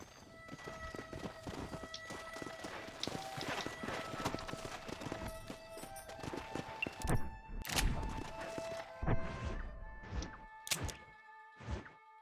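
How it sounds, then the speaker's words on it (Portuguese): Horse hooves clip-clopping in the Red Dead Redemption video game, a steady run of sharp, close hoof strikes over game music and ambience, growing louder and more distinct toward the end. "Ah, um cavalo ali."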